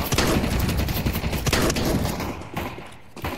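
Loud automatic gunfire from a gun in the video game Counter-Strike 2, a dense close burst of rapid shots that slowly thins out toward the end.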